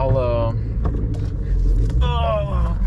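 A BMW M3 fitted with a new six-speed manual transmission rumbles along in a steady low drone, its engine noise sitting beneath a voice talking throughout.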